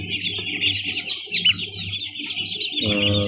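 Day-old chicks peep continuously in a dense, high chorus close by, with some soft clucking from a hen underneath and a louder burst near the end.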